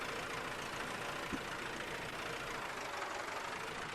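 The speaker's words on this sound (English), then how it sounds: "It's got a unique engine sound, that's for sure. It's quite loud." A loud, articulated farm vehicle's engine in Farming Simulator 19 runs steadily, a constant broadband engine roar with an even idle and no voices.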